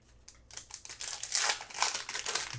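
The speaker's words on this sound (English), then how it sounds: "You don't know if you could hear the unsticking of the cards there" Panini Prizm basketball trading cards being pulled apart and unstuck, a soft continuous crinkling and peeling rasp close up, growing louder through the middle, with no voices.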